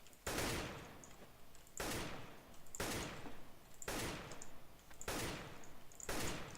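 Repeated rifle shots in the video game Counter-Strike: Global Offensive, six sharp, loud reports spaced about a second apart, each with a short ringing tail, with no speech.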